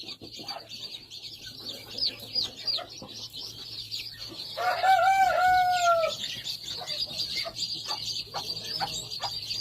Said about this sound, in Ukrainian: Такі цікаві курчата. Нехай ростуть.